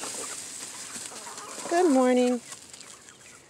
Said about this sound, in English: All right, beautiful chickens.